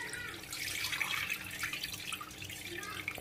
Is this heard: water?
yes